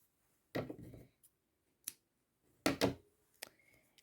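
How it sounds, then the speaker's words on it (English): Scissors snipping off leftover crochet yarn at close range, a few short crisp cuts spaced apart with quiet gaps between, no talking. "Cut off any extra."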